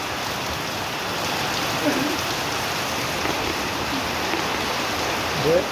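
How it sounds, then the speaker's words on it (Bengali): Steady, heavy rain pours down continuously over a construction site, a dense hiss of drops filling the whole clip with no voices. "দেখুন বৃষ্টি শুরু হয়েছে দেখলেন প্রচুর বৃষ্টি"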